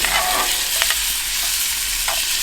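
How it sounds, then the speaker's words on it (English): Shrimp dropped into a hot pan for a tailgate shrimp and grits breakfast, hissing in a loud steady sizzle with a few quick scraping stirs and clinks along the way. "I'm going to go ahead and add in some of these delicious shrimp."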